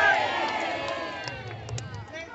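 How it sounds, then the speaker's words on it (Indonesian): A village hall crowd at a live bujang ganong dance show in Ponorogo cheers and whoops loudly in a sustained burst, with scattered clapping mixed through the roar. "tepuk tangan"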